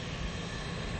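Engines of a WWII heavy bomber airplane give a steady, loud, unbroken drone with a dense roar throughout and no voices.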